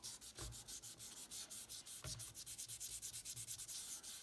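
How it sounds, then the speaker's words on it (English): Quick, rhythmic back-and-forth rasping of sandpaper wrapped around an eraser on the curves of a painted wooden guitar body, close and steady, with a couple of heavier strokes mixed in. "one little trick that can help when you're sanding curves is to take an eraser and wrap some sandpaper around that"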